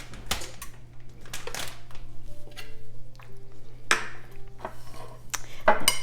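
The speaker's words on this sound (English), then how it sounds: "Mix those two things together." Cheese mixed with other ingredients in a dish for creamy Brussels sprouts with bacon, shown as a few sharp utensil clinks and scrapes against the bowl over a steady low hum, close and moderately loud.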